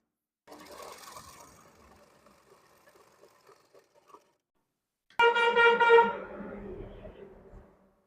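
An electric sewing machine stitches the leg hem of an Afghani salwar in short bursts, a faint whirring run first, then a louder, buzzing stretch of rapid needle strokes close by that tapers off.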